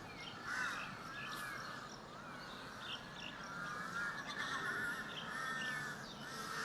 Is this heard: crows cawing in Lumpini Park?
yes